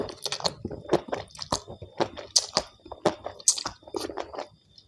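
Close, crunchy chewing of a spicy Thai glass noodle seafood salad with cucumber, a run of wet, crisp bites and squishy mastication repeating steadily for about five seconds with no talk.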